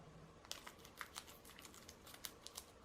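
Crinkly plastic of a Pokémon card booster pack from a Snorlax box being torn open, a quiet series of sharp rustles and crackles in brief bursts, close by with no talking.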